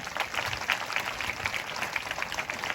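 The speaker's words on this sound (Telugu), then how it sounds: "తప్పకుండా వస్తారు అనేవారు గట్టిగా చప్పట్లు కొట్టండి" A church congregation claps loudly and steadily during an 11th-anniversary worship service, a dense, continuous patter of many hands filling the room with no voices over it.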